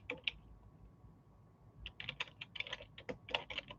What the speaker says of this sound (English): My typing is bad.